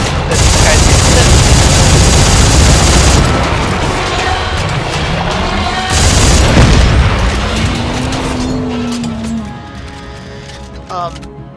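Rapid-fire weapon shots with stasis effects in the video game Dead Space 3 come as a loud dense barrage that fades into booming, whooshing game effects and rising tones, with a voice talking over part of it.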